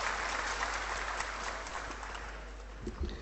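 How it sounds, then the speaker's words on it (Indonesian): Audience applauding teachers at a character-education seminar in a hall, a steady wash of clapping that carries through the whole stretch without pause. "Tepuk tangan untuk Bapak-Bapak Ibu guru semua di sini"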